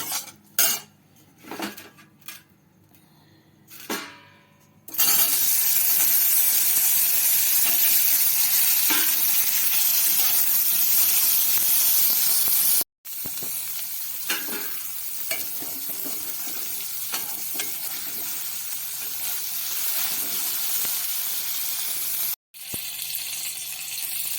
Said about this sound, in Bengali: এবার আমি পনিরগুলো হালকা করে ভেজে নেব।